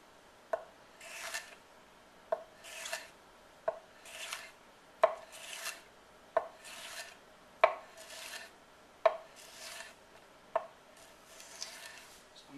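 Knife chopping a jalapeno chili on a cutting board, about ten sharp knocks at a steady pace, each one followed by a short scraping rasp, close and clear with no talking.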